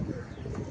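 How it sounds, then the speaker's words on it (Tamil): Pigeon, a Jack beading breed, cooing close by in short repeated low warbling pulses, with no voices. "புறாவை பறக்க வச்சு பார்த்தா தான் தெரியும்."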